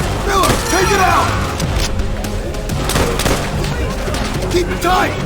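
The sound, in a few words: machine gun fire in the video game Call of Duty: World at War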